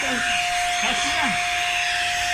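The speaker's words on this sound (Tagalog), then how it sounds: "Pinalabak ko lang yung vacuum." A vacuum cleaner runs in a home while parolan lanterns are being cleaned, making a steady loud whine with a constant high hum. Voices speak faintly in the background.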